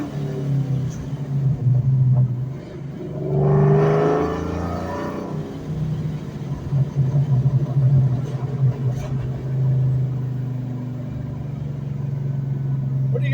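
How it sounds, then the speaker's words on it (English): A supercharged 2004 Ford Mustang Mach 1 cruises at low speed with a deep, steady exhaust drone heard from inside the car, swelling briefly as it pulls harder, then settling back to a constant rumble. "I'm going to try to let you hear the exhaust a little."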